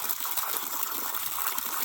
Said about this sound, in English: there's this pipe sticking out of the ground with water coming out of it